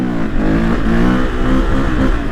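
Husqvarna motorcycle with traction control accelerating, engine note rising and pulsing loud and close for a couple of seconds with no talking.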